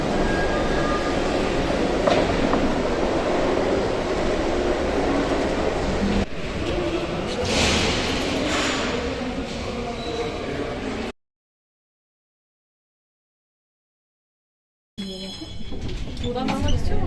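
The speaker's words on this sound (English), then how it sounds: "This is a very old historic funicular. The entire route runs in a tunnel." Old historic cable-pulled funicular train running through a tunnel in Istanbul: a steady loud rumble of cars and wheels on rail with faint squeals, cut by a brief silent gap before the rolling resumes; voices are faintly present.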